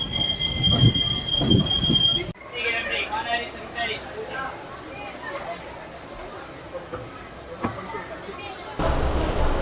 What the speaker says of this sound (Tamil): டீசல் லோக்கோ வச்ச ஒரு ட்ரெயின் இருக்குது.